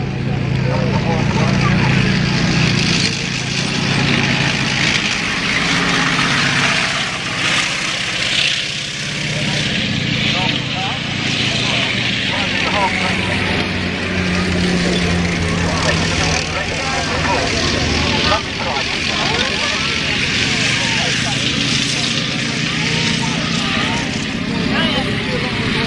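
Original World War II military vehicles at a re-enactment with engines running, a loud continuous mechanical roar and rumble that holds steady throughout, with someone talking over it.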